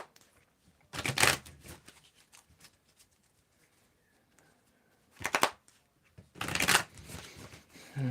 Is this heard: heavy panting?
no